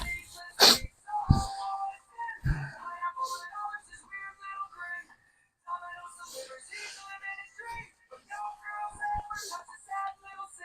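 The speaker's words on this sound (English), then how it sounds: "I need to sneeze." A person in a small bathroom lets out a sharp sneeze near the start, followed by a couple of snorts and a sniff, then faint tinny music plays in the background.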